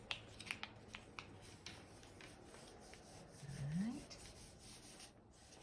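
Paper being folded and creased by hand for an origami box gives soft close rubbing and crinkling with a few sharp taps, and a brief spoken remark.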